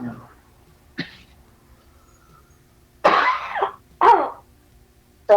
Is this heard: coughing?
yes